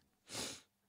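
A single short sneeze, quiet and fairly close, a brief breathy burst standing alone in an otherwise quiet room.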